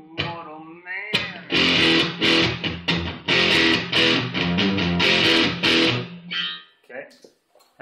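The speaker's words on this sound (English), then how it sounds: "if you want to do it with power chords, it'll sound something like this." Distorted electric guitar chugs through a loud, choppy power chord riff, with short pauses between bursts, ending in a brief sustained note.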